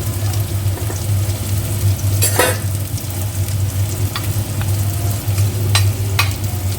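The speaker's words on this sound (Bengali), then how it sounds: "কুমড়োটা এখানে একটু ভাজছি ফোড়ন দিয়ে" Pumpkin pieces frying with tempering spices in hot oil, a loud continuous close sizzle with a low hum underneath and a few brief scraping stirs, no talking.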